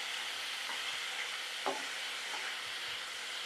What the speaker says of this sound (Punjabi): ਹੁਣ ਆਪਾਂ ਇਹਨਾਂ ਨੂੰ ਫਰਾਈ ਕਰ ਦਿਆਂਗੇ ਪਨੀਰ ਨੂੰ